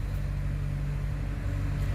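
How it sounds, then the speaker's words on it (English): A leaf vacuum truck runs somewhere down the road as a steady, heavy engine drone with a constant low rumble and no breaks. "There's a leaf truck down the road."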